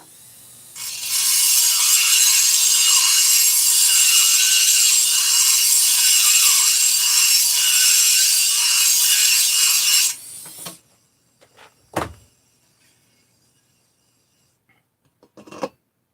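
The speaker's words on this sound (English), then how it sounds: "Back to the Dremel." A Dremel rotary tool grinds with a loud, high, steady whine for about ten seconds, then cuts off, followed by a few faint scrapes and knocks in a quiet room.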